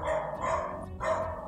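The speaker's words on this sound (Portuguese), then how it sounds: "O cachorro latindo," A dog barks in two long, rough bursts separated by a brief pause, moderately loud and somewhat reverberant, as if from nearby in or around the house, with no talking.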